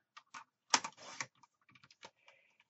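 Paper for a card is trimmed to size, producing a few sharp clicks, then a louder rasping slide as the cut is made and a scatter of small taps afterward, close and otherwise quiet.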